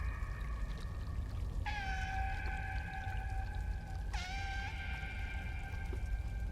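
Another cat meows in the video game Stray: two drawn-out, wavering meows a few seconds apart, fairly clear over a steady low background, with no talking.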